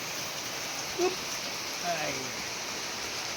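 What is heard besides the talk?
heavy rain falling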